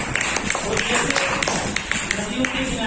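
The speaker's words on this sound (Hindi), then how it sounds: "Very good, Tali बजाइए।" Classroom students clap together in a string of quick, sharp claps, loud and fairly close, with voices chattering alongside.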